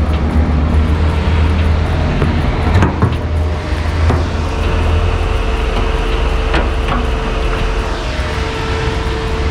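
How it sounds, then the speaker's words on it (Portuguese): Chevrolet Celta radiator cooling fan running with the engine off, a loud, steady broadband whoosh with a low hum underneath that continues without a break, plus a couple of faint clicks. "O ventoinha ligou agora, porque o carro tá desligado"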